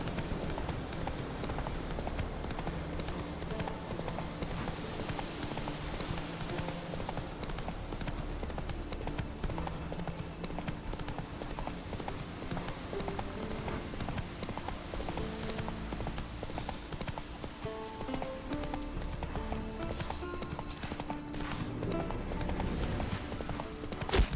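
Steady clip-clop of horse hooves at a quick, even pace runs throughout, with game music and ambient sound layered underneath, from the video game The Witcher 3: Wild Hunt.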